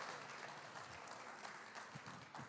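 A church congregation applauds children who helped tell a story at a Good Friday service, a steady, moderately quiet wash of clapping from many hands that carries on evenly throughout.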